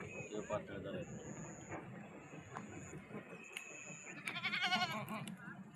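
A goat eating fodder grass on a sugarcane farm lets out a clear, nearby bleat toward the end, heard over a steady bed of background voices and outdoor noise.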